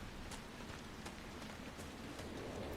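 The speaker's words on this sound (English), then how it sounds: "It's always raining here." Steady rain falls over the rundown village of Crestwood in Dragon Age Inquisition, a constant soft hiss with faint scattered drop patters, heard alone without voices.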